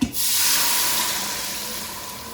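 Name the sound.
chicken broth poured into Instant Pot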